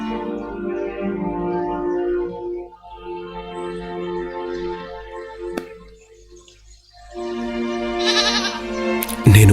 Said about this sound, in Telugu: యేసు, నా గొర్రె పిల్లను నీకిస్తాను.